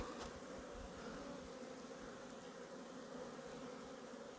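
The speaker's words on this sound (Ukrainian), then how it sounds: "Бджолки теж активно облітуються, супер." Honeybees from mixed alpine, Primorsky, Ukrainian steppe and local stock buzz around a hive during orientation flights, a steady close dense hum without pause and no voices.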